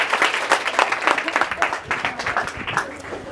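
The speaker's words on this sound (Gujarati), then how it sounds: "એકવાર તાળી પાડી દો" A seminar audience in a Gujarati-medium classroom breaks into lively group applause, dense and steady for several seconds, with voices talking over the clapping.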